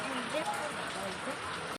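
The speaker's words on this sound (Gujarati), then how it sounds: "વરસાદ ફૂલ પડે છે" Heavy rain falls in a steady, even wash of noise throughout, with voices talking over it.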